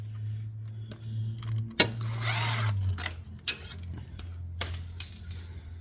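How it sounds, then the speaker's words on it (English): An 8mm socket loosens the filter clamps on a twin turbo kit during removal, giving scattered metallic clicks, clinks and ratchety taps over a low steady hum, close and moderately loud. "I always hated using flatheads, so I just use an 8mm socket."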